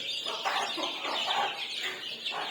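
Native chicken chicks chirping and cheeping eagerly as starter feed is given, a busy cluster of high, overlapping peeps close by, continuous for the whole moment.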